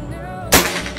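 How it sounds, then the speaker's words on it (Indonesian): A single sharp shot from a prototype PCP air rifle made by Bocap cracks once at close range, a sudden loud pop followed by a short decay into quiet outdoor ambience. "Oke, ini tembakan ketiga,"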